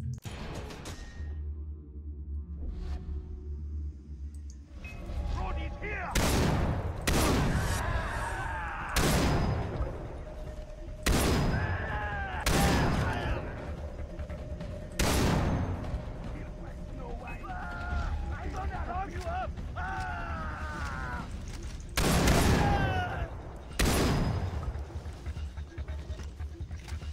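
Shotgun blasts in a video game, about ten loud, booming shots spaced a few seconds apart over low rumbling ambience, with a voice talking in between.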